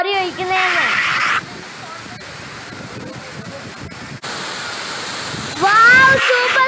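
Achankallu waterfall at Konnakkad in Kasaragod roars as a steady, broad wash of falling water throughout, with a voice speaking over it at the start and again near the end.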